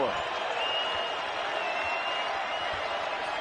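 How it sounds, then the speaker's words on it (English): A basketball crowd at the CU Event Center roars and applauds in a sustained, even wash of cheering that fills the arena for the whole stretch. "Crowd rising to his feet here at the CU Event Center."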